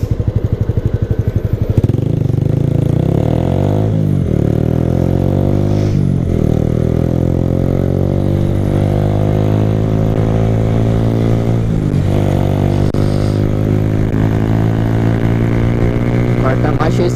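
A motorcycle engine revs up repeatedly, pitch climbing through the gears to fourth with brief dips at each shift, loud and close throughout.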